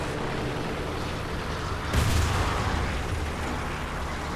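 An IS-6 heavy tank takes a hit in War Thunder tank combat, a sudden loud boom at about two seconds bursting out of steady engine rumble and background battle noise, with no talking.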